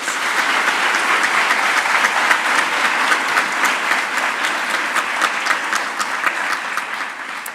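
Audience applause at a girls' school gathering honouring the chair of the board, loud and dense clapping that continues steadily for several seconds without any talk.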